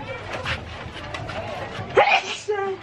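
A single sharp sneeze bursts out near the end, amid faint background chatter and market bustle.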